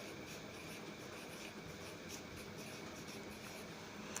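A pen scratches across paper in a quiet room, a faint continuous soft scribbling with small strokes and pauses, heard close and alone.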